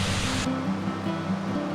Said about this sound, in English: That'll be our second waterfall for us today.